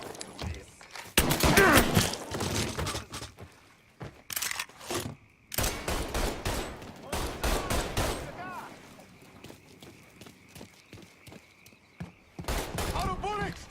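Bursts of gunfire from Mafia 3 crackle through a combat firefight, rapid volleys and single shots loud and close, with pauses between clusters and shouted voices in between.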